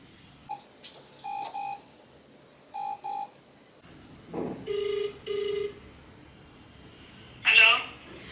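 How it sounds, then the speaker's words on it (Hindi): A phone call to a mother: paired electronic ringback tones repeat at regular intervals, with a burst of keypad-like beeps near the end and a brief noise between the rings. "मैं मेरी मम्मी को फ़ोन करती हूँ"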